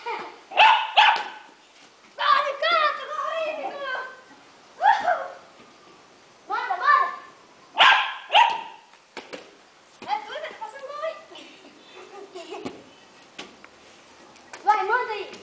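A dog barks in repeated sharp bursts near a casual street football game, the barks coming in a loose rhythm and mixed with excited voices shouting and talking.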